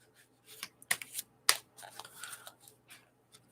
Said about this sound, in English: let me go ahead and shuffle these up a little bit